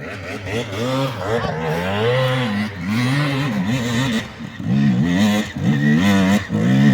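New motorcycle engines rev repeatedly, the pitch rising and falling in throttle bursts close by. Several revs overlap across the stretch, with short gaps between pulls.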